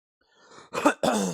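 A faint breathy lead-in followed by two harsh, forceful bursts, close and loud, like a person coughing twice.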